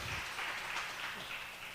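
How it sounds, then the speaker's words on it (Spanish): A church congregation applauds for a short, faint stretch of diffuse clapping, with voices mixed in underneath. "Démosle un fuerte aplauso al Señor Jesucristo, que es el dueño de la iglesia."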